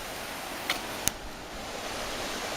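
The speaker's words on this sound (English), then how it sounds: "A bridge over the creek. I'll show you the creek there." Creek water flows steadily under a wilderness trail bridge as a broad, even rush, interrupted by two brief sharp clicks near the start and no talking.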